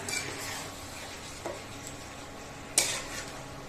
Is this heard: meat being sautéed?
yes